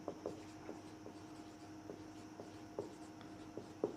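Notes are written by hand during a chemistry lesson on common salt, giving faint, close scratchy strokes that come at irregular intervals against a quiet room tone with no talk.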